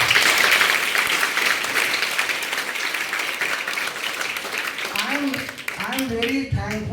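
School students at a career counselling program clapping for themselves, sustained loud applause filling the room, with voices and talk rising near the end.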